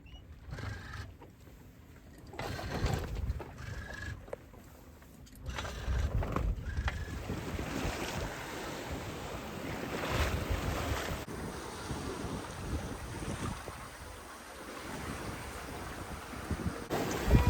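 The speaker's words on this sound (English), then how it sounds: "the waves have gotten a little bit choppier" A sailboat under sail at sea in choppy waves in the channel between Sardinia and Corsica, with steady rushing wind, sloshing water against the hull and blustery microphone wind noise throughout.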